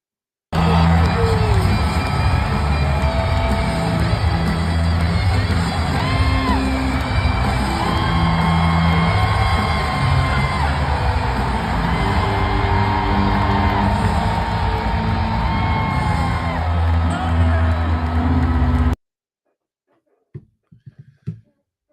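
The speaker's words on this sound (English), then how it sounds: "Will Levis and Lloyd Cushenberry getting the crowd hype before Game 4" A packed stadium crowd at an NFL Titans event being hyped before Game 4, roaring and whooping with yells and bangs over thumping music for about eighteen seconds, then cutting out to near silence.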